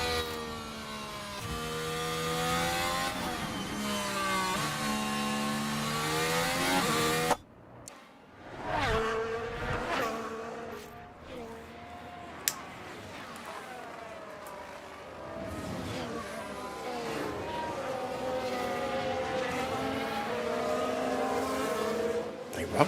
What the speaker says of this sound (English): there goes Rosberg screaming on through